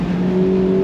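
A modified ND Mazda MX-5 Miata accelerates on an autocross course, its engine holding a loud, steady drone with a sustained tone for a brief moment, with no talking.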